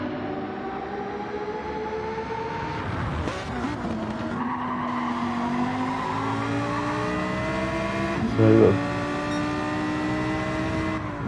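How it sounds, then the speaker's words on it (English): Four-wheel drive Gr4 race cars in a racing video game at Trial Mountain, engines roaring steadily with shifting pitch as they pass through a tunnel, loud and continuous with a brief louder burst near the end. "two four-wheel drive cars going at it, hammer and tongs, coming through tunnel number 2"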